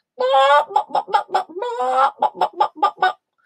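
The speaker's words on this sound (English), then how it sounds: "and cheep, cheep, cheep. That's right, hens and chicks." A hen clucks in a drawn-out cackle, then a rapid run of short clucks; the pattern repeats twice, close and loud. A farmyard of hens and chicks.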